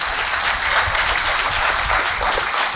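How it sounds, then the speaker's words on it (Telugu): A church audience at a temple consecration festival breaks into loud, dense applause for the bishop, a continuous wash of many hands clapping. "బిషప్ గారికి మరొకసారి గట్టిగా చప్పట్లు కొట్టండి."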